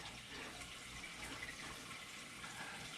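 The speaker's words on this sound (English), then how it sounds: "So I got a pump coming from my my salt water into the tank now." Saltwater is pumped into a 75 gallon aquarium, giving a steady, soft rush of pouring and splashing water that continues without a break.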